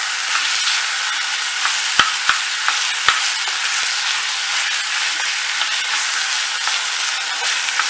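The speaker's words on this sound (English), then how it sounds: "we just want to stir around the bowl and make sure it softens up" Turkey stirred around a bowl in a school kitchen, a steady scraping, rustling swirl broken by a few sharp taps of the utensil against the bowl, close and fairly loud, with no one talking.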